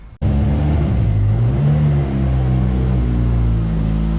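A boosted Honda Accord engine runs on a dyno, starting abruptly and then holding a loud, close, steady droning rumble with a slight dip and recovery in the middle, with no talk.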